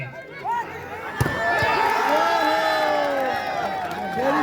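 A crowd cheers and shouts for the Waling team during a volleyball match in the Putalibajar Cup, with voices whooping over steady roar throughout, loud and close, building slightly toward the end.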